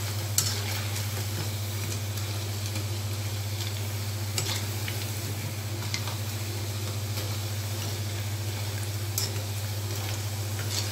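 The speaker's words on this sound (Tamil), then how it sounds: "பகோடா வந்து இப்போ திருப்பி போட்டுக்குங்க." Pakoda fry in hot oil while being turned over, giving a steady, even sizzle with a low constant hum beneath and a few faint clicks of a utensil scattered through.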